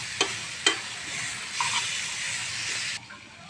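Tomato chutney with a spoonful of sugar frying in a pan, a steady close sizzle and hiss with a couple of sharp stirring scrapes near the start, then the sizzle carries on alone and drops off abruptly near the end.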